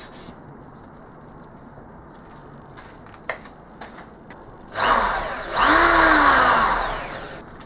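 A power drill whines up after a quiet stretch, its pitch rising then bending as the bit bites into the side of an engine crank part, loud and close.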